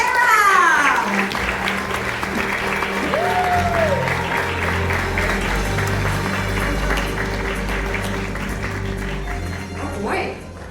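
Audience at a conference talk in Toronto applauds over a bright musical stinger and background tones, with steady clapping and some crowd noise throughout.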